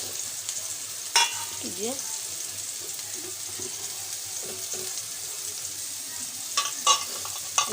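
Pyare kebabs, a Kolkata-style starter, fry in a covered pan over a low flame with a steady soft sizzle and a few light clinks; a voice speaks briefly near the end.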